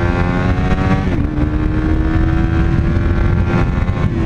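A Suzuki GSX-S 125 motorcycle ridden hard at around 100 km/h before a bend, its engine holding a loud, steady high-revving drone with a brief pitch dip as the revs shift, mixed with constant wind rush.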